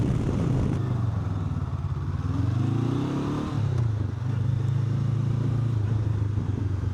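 A 2025 Honda NX500 motorcycle pulls away in second gear on a downhill road, its close engine drone rising and easing in pitch as it accelerates, steady and loud throughout with no talking.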